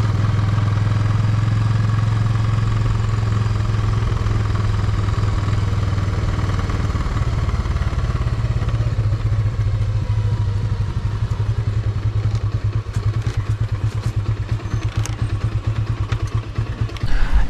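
A motorcycle engine idles steadily with a low throbbing rumble and some mechanical clatter, close by and continuous throughout, with no talking.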